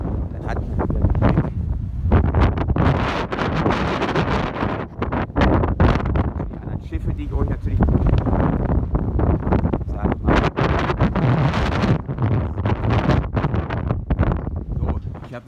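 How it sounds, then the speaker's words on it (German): Strong wind buffets the microphone continuously at a naval museum, a loud rumbling roar with gusty bursts and crackling throughout. "Richtig windig."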